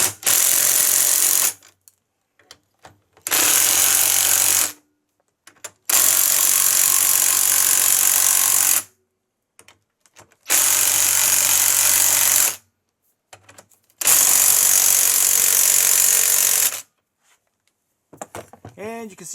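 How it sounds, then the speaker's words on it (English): An impact wrench with a 19mm socket drives a coilover spring compressor on a 2014 Sierra or Silverado front shock in five loud, close bursts of hammering, each lasting a couple of seconds and separated by short silences. "Barry's going to hit this with an impact wrench, 19mm socket"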